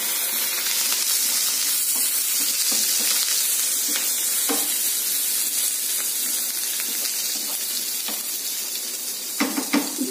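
Carrot fry curry hisses loudly in a hot pan, a dense, continuous sizzle with scattered scrapes and taps from stirring, close and steady throughout, with no talk.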